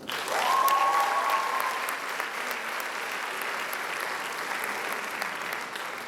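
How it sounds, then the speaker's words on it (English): Graduation ceremony audience breaks into a full round of applause for the faculty, swelling quickly then holding steady and fairly distant, with a brief whistle near the start. "to all the members of the faculty, for being our friends when we needed you the most, can we please have a round of applause?"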